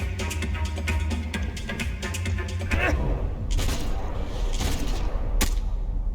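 Gunfire in the video game Max Payne 3: a handful of sharp, loud shots and bursts land irregularly over a steady low rumbling game backdrop, with the later shots clustering closer together.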